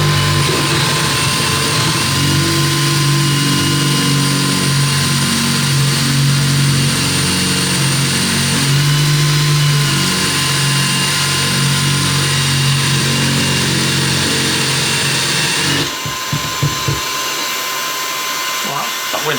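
A hammer drill bores through the wall of a VW Crafter camper van with a loud, continuous grinding whine for about sixteen seconds, then stops abruptly, leaving quieter knocks and handling noise.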